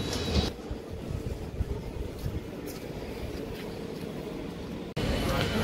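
A train pulls out of Vangapalli railway station with a steady rumbling roar and faint rhythmic rattle of carriages, briefly louder near the end, while someone talks over it.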